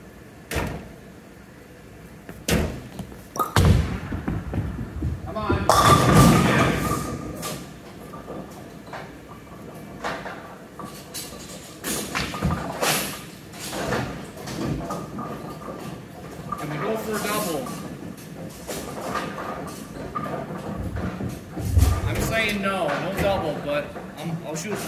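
A bowling ball rumbles down an alley lane and crashes into the pins, with clattering impacts amid echoing hall noise and people talking throughout.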